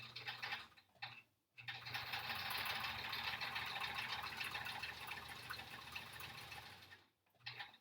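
A sewing machine stitching a quilt-as-you-go quilt block runs in a steady, close mechanical whir, stops briefly near the start, then hums continuously before pausing again at the end, with no voices.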